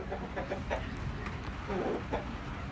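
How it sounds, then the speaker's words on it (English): Several chickens clucking in short, scattered bursts over a steady low background murmur, fairly close by. "Chance, get these chickens off the porch."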